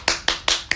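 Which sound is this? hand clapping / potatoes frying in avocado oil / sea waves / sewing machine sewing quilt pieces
hand clapping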